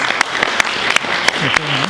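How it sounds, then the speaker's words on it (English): A church congregation claps during a Sunday sermon, giving a short burst of scattered applause with distinct individual claps and voices mixed in underneath. "Let's give them a round of applause."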